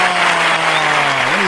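Brief burst of applause rings out for a livestream supporter, dense and steady with a faint tonal hum underneath, lasting just over a second.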